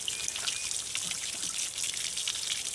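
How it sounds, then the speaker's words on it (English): Water runs from a garden hose at higher pressure while a Johnson 40 HP outboard motor is being tested, making a steady, even hiss and splash that continues without a break. "I'm gonna turn the water pressure up on the hose a little bit"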